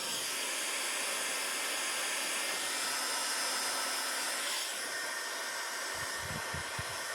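A heat gun blows with a steady, loud hiss and rush of air while warming a plumbing thermal coupling at a well installation, continuous throughout with a few low thumps near the end.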